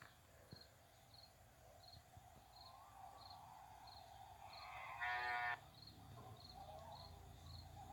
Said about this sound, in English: Man, it started mooing.